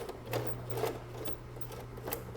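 A sewing machine stitching a zipper with tabs gives short bursts of rapid mechanical clatter, three close quick runs separated by brief pauses, heard up close and fairly quiet.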